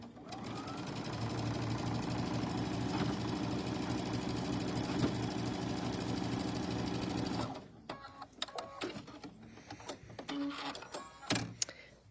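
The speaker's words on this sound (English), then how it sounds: "we're going to stitch this one seam right here" A sewing machine stitches a quilt seam with a steady, close mechanical whir for several seconds, then stops, followed by scattered clicks and fabric handling.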